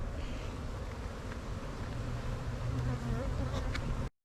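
Honey bees buzzing around an open hive: a dense, continuous hum of many insects close to the microphone, with faint wind noise, ending abruptly.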